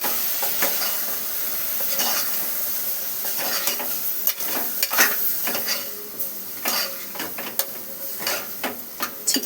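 Potato pieces frying in a pan and being stirred, with a steady sizzle under repeated scraping strokes of a spoon against the pan, close and moderately loud, with no talking.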